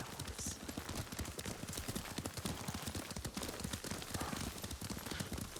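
Horse hooves clip-clop steadily during riding in the Ghost of Tsushima video game, a continuous rhythmic trotting beat mixed with game ambience and occasional voices.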